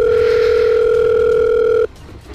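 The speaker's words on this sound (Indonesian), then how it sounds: "telepon dulu Bu Iyo ya." A telephone dial tone in the Sakura School Simulator video game plays as a loud, steady electronic tone for nearly two seconds, then cuts off abruptly into quiet background.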